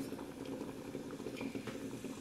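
Chopped onion sizzling in a pan that is not yet very hot while making cuscuz paulista, a quiet, steady crackling fry with no talk over it.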